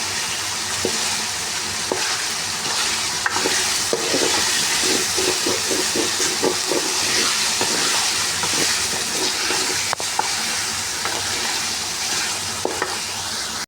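Chicken frying and sizzling in a pan as the base for hot and sour soup, a steady loud hiss with light stirring scrapes running throughout and no voices.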